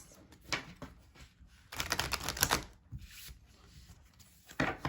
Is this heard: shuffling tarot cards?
yes